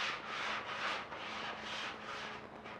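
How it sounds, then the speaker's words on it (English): Wood being sanded during a camper van build, a steady abrasive rasping that swells and eases in rhythmic back-and-forth strokes, close and continuous with no voices. "Your sanding sometimes rubs me the wrong way."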